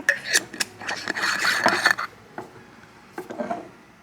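A cap goes onto a bottle of homemade nut milk with a cluster of close, sharp clicks and twisting rattles, followed by a few lighter taps and knocks; no voices.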